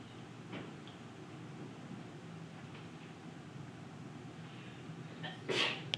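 A single sharp sneeze bursts out near the end, close and fairly loud, following several seconds of quiet room noise in a maths lesson.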